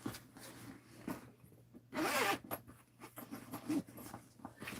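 A quick zipper pull rasps loudly near the middle, surrounded by soft handling rustles and light taps of fabric.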